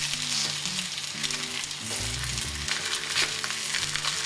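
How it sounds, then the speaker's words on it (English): Breaded chicken schnitzel frying in hot oil in a pan, a loud, close, continuous sizzle with crackling bursts and no talking over it. "And hear it sizzle?"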